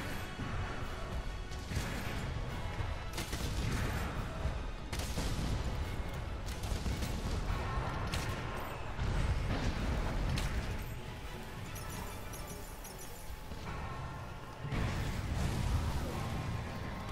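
Heavy bowgun firing cluster ammo in Monster Hunter World: Iceborne while fighting Kushala Daora, a run of loud, dense explosive bursts and crashes that keep rolling with only brief lulls.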